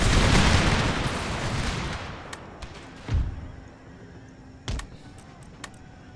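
A loud roar of massed canister-shot gunfire in the video game Empire: Total War fades out, followed by a few sharper, separate booms and cracks.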